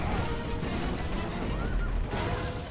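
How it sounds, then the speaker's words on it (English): Battering ram smashing through a city gate during a siege battle in the Rome: Total War strategy game, a dense, loud rumble of crashing impacts and battle noise running continuously without a break. "The battering ram has broken through the gate."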